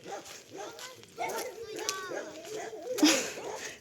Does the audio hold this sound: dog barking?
yes